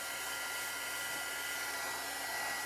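A hair dryer blows steadily and loudly up close to dry fresh paint on an old canvas wall decor piece, an unbroken whooshing roar with no talk.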